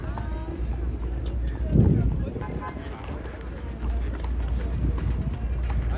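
Horse hooves clop on a Manhattan street near 6th Avenue, a brief burst of hoofbeats under steady city traffic rumble and background noise, moderately close and not loud.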